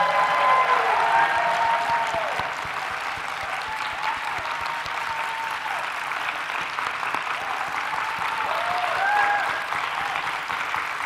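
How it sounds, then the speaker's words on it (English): Audience at a librarian award ceremony giving a sustained round of applause, a dense steady clapping from a large crowd that holds at an even level throughout, with no speech. "Please join me in a final round of applause for this year's I Love My Librarian Award"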